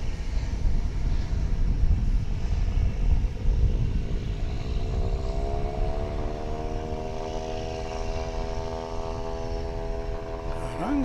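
An airplane taxiing at DFW International Airport, a broad rumbling engine roar that settles into a rising whine with sweeping tones, heard from a distance outdoors.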